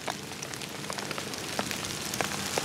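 First rain of the season falling in the dry sertão: a steady broadband hiss of light rain with scattered distinct drop impacts throughout, close and alone with no voices.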